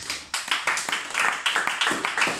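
A church congregation at a Sunday service claps together in a steady, brisk rhythm, roughly four sharp claps per second, filling the room with loud, close applause and no voices.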